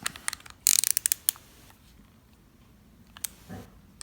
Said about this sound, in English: So you gotta take your ratchet, loosen it up.